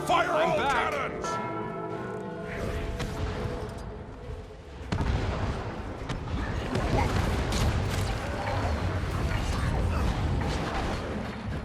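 In a PVP video game naval battle, a signal bell rings with a bright, decaying metallic tone early on, followed by heavy mechanical clanks, creaks and booming fire; a voice talks over parts of it.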